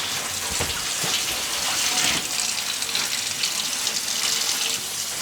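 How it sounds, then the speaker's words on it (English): Water gushing steadily from a household shower fed by an electric water heater, a loud continuous hiss and splash with slight sputtering, close and uninterrupted. "We have not had water out of the shower in..."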